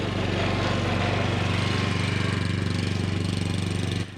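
A cylinder lawn mower's engine runs steadily while the mower turns, a loud, even, rapidly pulsing drone held close throughout before easing off at the very end.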